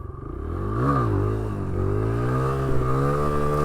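A motorcycle engine revs up and swoops in pitch during clutch-up wheelie practice, close and loud, with a steady throttle hold and brief rises and dips.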